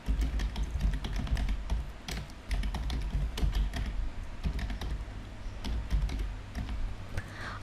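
Someone types text on a computer keyboard while working in Microsoft Word 2013, producing close, rapid bursts of crisp key clicks with brief pauses between runs and no talking.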